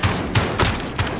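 Shotgun blasts in a video game, four sharp booming shots spaced irregularly over a second, loud and close with little else between them.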